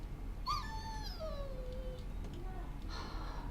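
A dog in Dragon Age: Origins lets out a long, drawn-out whimper that slides downward in pitch, followed by a softer whine, faint over low game background sound.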